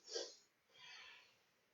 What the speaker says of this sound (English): 3 sniffs in, 1 sniff out.